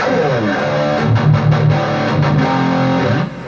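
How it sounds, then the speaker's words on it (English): BOSS IR-200 running a JC120 amp simulation with distortion gives a gritty, sustained electric guitar tone, played as a short phrase of chords and notes for about three seconds before trailing off. "Let's listen to the JC120 with a distortion."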